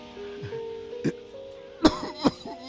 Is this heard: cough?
yes